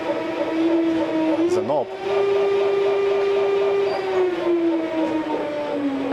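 A smart lathe spindle spins with a steady motor whine that briefly wavers and climbs as the speed is increased, while someone talks over it.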